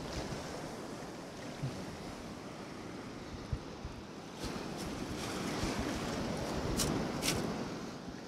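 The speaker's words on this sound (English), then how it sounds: "Wait for this wave to pass." Ocean waves roll and break on a sandy beach in a steady surf wash with wind buffeting the microphone, and the roar swells louder toward the end as a wave passes.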